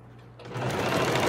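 A sewing machine stitches a long dress with puffed sleeves, its close, steady mechanical whir starting softly and then running louder and continuous without pause.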